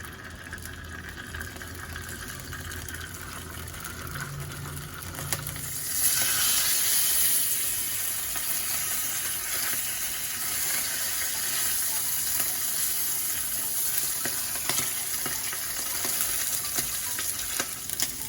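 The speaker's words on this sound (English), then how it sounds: "what we're going to do is to pan fry the Pacific Saury first" Pacific saury pan frying in hot oil, a constant crackling sizzle that grows louder and brighter partway through, as if the fish were just laid in, with some faint handling clinks.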